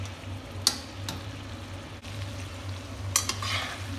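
Potatoes and brinjal stirred while frying in a pan, giving a low steady sizzle with a few sharp spoon scrapes and clinks against the pan.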